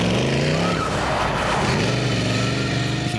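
The Batman Tumbler stunt vehicle drives loudly with a roaring engine, its tires skidding and squealing across a few seconds, close and dominant with no voices.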